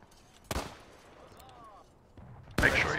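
Two sharp, loud rifle shots ring out in a multiplayer Civil War battle game on a ridge, spaced about two seconds apart, with faint voices and background battle noise between them.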